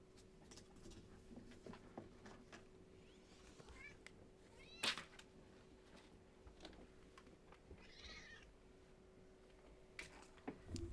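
A pet cat gives a few faint, soft meows indoors, scattered among quiet rustling and a steady low hum in the room.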